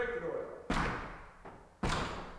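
A locked door with a deadbolt and strike plate is forced open in a break-in test: two heavy, loud impact thuds about a second apart, with a fainter knock between them.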